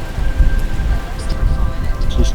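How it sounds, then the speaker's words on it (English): A summer rainstorm in the desert brings a steady patter of rain on surfaces with low rumbling underneath, likely distant thunder, and a faint tonal hum running through the brief stretch. "Just chilling out during the little rainstorm here"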